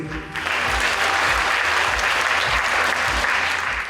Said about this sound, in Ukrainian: Тому дякую вам і вам оплески.